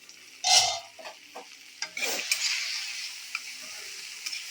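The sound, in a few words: tomatoes frying and being stirred in a pan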